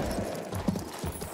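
A horse gallops in the World War I shooter Battlefield 1, its hooves clip-clopping quickly over a dense, noisy battle background for a brief moment.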